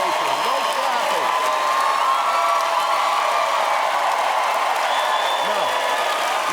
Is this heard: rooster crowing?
no